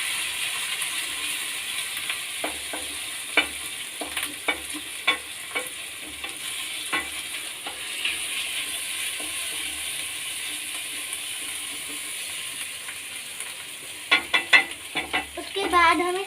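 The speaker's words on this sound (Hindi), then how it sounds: "अब हम चलाएंगे फिर से।" Chana masala with a half spoon of turmeric being stirred in a pan, with repeated scraping and clicking spoon strokes over a steady low sizzle, close and moderately loud, with a quicker flurry of strokes near the end.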